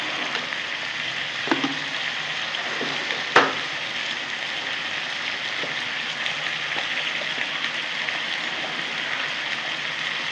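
Vegetables frying in oil with turmeric and salt, a steady soft sizzle running throughout with a few faint clicks and one sharp tap of a utensil.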